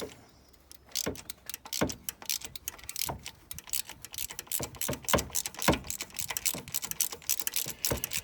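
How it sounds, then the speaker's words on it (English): A spark plug tool clicks and ratchets as a Kia Picanto spark plug is undone, with a run of close, sharp mechanical clicks and small knocks in irregular bursts. "fit the tool to the plug and undo"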